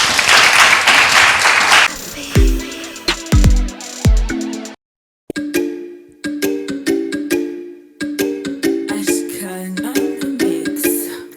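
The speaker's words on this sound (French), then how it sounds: "Mesdames et messieurs, applaudissements pour ce jeune garçon." An audience bursts into broad applause for a young hip-hop artist. The clapping is loud and dense for about two seconds, then gives way to music with no talking.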